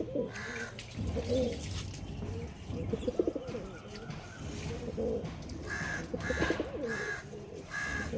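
A pair of pure Andhra pigeons, a cock and a hen, coo repeatedly at close range, their low throaty rolls coming in several bursts over a faint chirping background.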